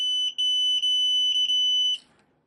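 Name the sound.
FNIRSI 2C53P multimeter continuity test beep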